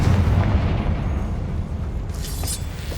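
A blasting spell explodes in Hogwarts Legacy, a heavy, rumbling boom filling the clip with a dense low roar that decays slowly, a brighter crackle flaring near the end.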